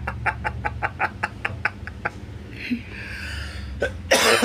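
A rapid run of about a dozen evenly spaced coughs bursts out while laughing, close and loud, followed by a short breathy pause, a gasp and a harsh exhaled burst at the end.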